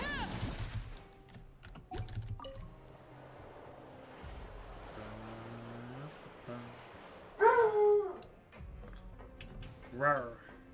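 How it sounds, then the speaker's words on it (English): Excited dog giving short barks and high whimpers and yips in bursts, mixed with keyboard typing and a person talking now and then in a quiet room. "Dog is acting crazy."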